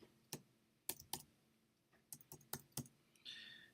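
Keys on a computer keyboard clicked in short irregular bursts, a few separate taps then a quick cluster, close and fairly quiet with no voices.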